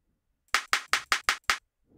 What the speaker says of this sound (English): And I'm just going to increase the pitch of this clap here.